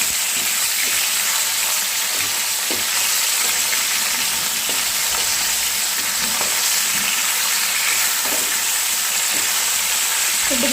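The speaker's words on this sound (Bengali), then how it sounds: "পিঠেও ভালো করে ভাজা করে নিচ্ছি।" Pomfret fish frying in hot oil after being turned onto the other side, a steady loud sizzle and crackle running throughout with occasional sharper pops, no talking.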